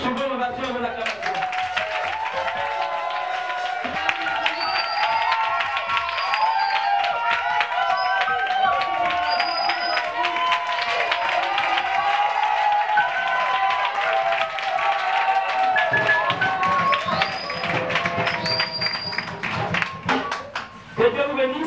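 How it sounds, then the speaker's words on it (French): An audience welcomes a couple with sustained applause and rhythmic clapping, loud and continuous, while music with melodic tones plays alongside and a voice speaks over it. "sous vos ovations et vos acclamations"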